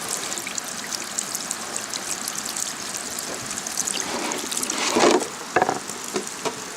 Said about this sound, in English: Go ahead and pour it out for me if you would.